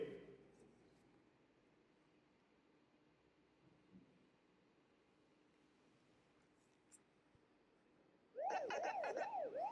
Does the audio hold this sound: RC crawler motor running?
no